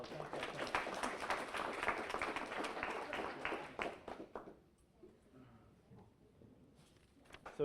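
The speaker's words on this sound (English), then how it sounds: "Another round of applause." A press-conference crowd claps and applauds for about four seconds, then the clapping dies away into quieter room noise with faint murmuring and scattered taps.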